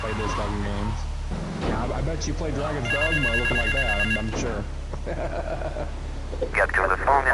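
A payphone rings in the video game GTA III, with repeated electronic trills of ringing among game sounds while a person talks over them nearly throughout.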